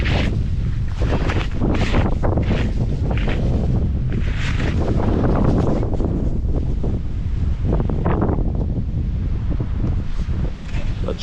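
Strong, steady wind roars and buffets the microphone throughout a mountain blizzard at a stone ruin, a constant loud gusting wash with rustling bursts and no pauses.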